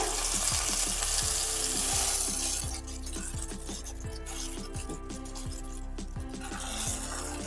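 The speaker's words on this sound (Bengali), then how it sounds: "মিডিয়াম হিটে আমি এবার ভাজবো এটাকে।" Pumpkin slices fry over medium heat in a pan with a steady crackling sizzle, close and constant, while a utensil taps and scrapes the pan at a regular pace; the hiss eases slightly partway through.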